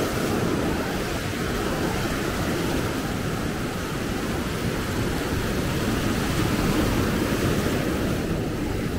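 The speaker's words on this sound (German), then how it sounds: "Schaut euch an, was da für schöne Wellen kommen." Ocean waves at Maspalomas on Gran Canaria roar in a continuous, dense wash of surf heard close up, with a steady rumble and some wind buffeting and no voices.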